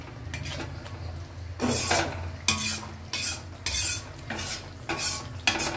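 Chopped tomatoes with turmeric are stirred in a pan, with bursts of scraping and clinking from a spoon against the metal about every second over a soft background sizzle, close and without talking.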